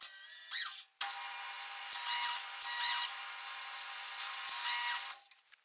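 A Jet JMD-18PFN mill drill runs through a first test cut, its steady high motor whine swelling in several short passes as the cutter engages, then dropping away at the end.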